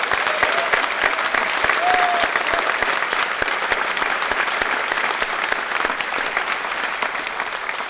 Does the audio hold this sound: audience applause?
yes